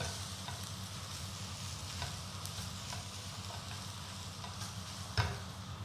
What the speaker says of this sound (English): we mix everything together so that all the vegetables and the rice incorporate